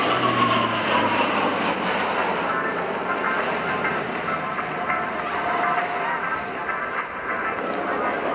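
A heavy carrier airplane passes low and slow at the RIAT 2017 airshow at Fairford, a loud, sustained engine roar that stays steady and broad across eight seconds while an announcer talks over it.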